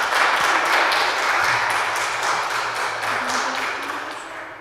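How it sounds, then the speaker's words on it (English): Dense, steady applause from a concert audience fills the whole stretch, loud and close, with a broad wash of many hands that eases off slightly toward the end. "Give yourselves a round of applause"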